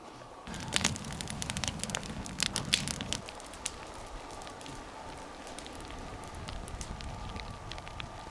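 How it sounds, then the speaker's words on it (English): A campfire crackles outdoors while backpacking in Washington's Blue Mountains, with sharp pops and snaps scattered over a steady hiss and an early low rumble, and no talk. "I'm ready to start this campfire up right now."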